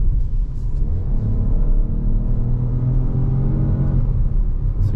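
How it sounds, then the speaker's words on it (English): A 2024 Peugeot 2008 facelift with the PureTech 130 engine pulls in sport mode, heard from the cabin as a deep steady rumble that rises in pitch under acceleration and then drops away near the end. "So you do have a pronounced sound of this PureTech engine, which is nice."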